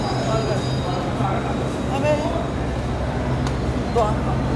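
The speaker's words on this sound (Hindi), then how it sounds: "मेट्रो आ गई।" A Delhi metro train rolls into an underground station with a steady loud rumble, faint wheel squeals and tonal hum throughout, while people chatter nearby over the noise.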